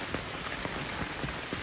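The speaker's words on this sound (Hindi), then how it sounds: "तो गाइस ये देखो इधर बहुत ज्यादा बारिश हो रही है ना" Heavy rain pours down outdoors along a trekking path in Nepal, a constant loud wash of drops with scattered sharper patters close by and no talking.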